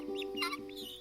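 A guinea hen in the video game Dwarf Fortress gives quick, close clucking calls over a steady tonal game backdrop, filling the whole second.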